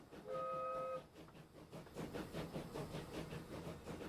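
A train in the Transport Fever 2 game sounds a short horn or whistle chord, then rolls along with a steady rhythmic rumble and clatter, moderately loud with no one talking.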